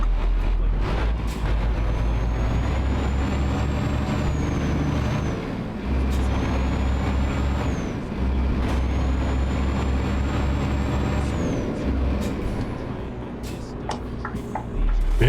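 Heavy truck in a truck-driving game, its diesel rumbling low and steady while several sharp air-brake hisses and releases cut in at intervals, loud and close.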